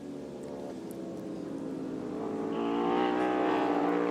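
Racing motorcycles at Chuckwalla Valley Raceway roar down the back straight toward a diving left-hand corner and heavy braking zone, a steady layered engine drone swelling louder over four seconds, with no voices.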